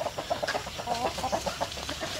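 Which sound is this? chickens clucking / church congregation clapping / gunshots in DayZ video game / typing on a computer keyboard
chickens clucking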